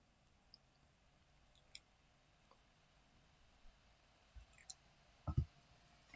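Sparse, faint mouse clicks, a couple of them stronger and closer together, come from someone working in Unity Pro software while creating a new project. They sit over quiet room hiss with no talking.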